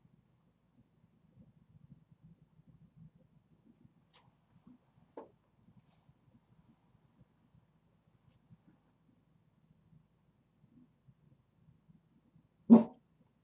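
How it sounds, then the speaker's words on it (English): A pet dog barks indoors, one sharp, loud bark near the end after a long quiet stretch with only a faint yip or two earlier. "my dog is barking"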